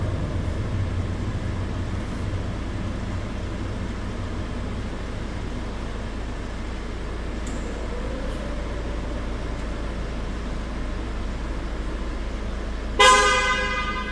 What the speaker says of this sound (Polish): Klakson też, jak słyszycie,